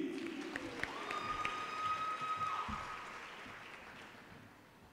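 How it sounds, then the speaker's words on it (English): Audience clapping at a business school graduation ceremony, moderate and diffuse, fading gradually toward the end while a sustained tone rings briefly over it. "Let's put our hands together and give it a serious round of applause."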